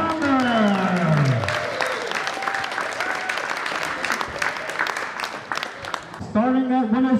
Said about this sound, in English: a big round of applause for Curtis Sommer